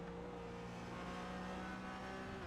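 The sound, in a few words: Audi TCR race car engine on lap, iRacing video game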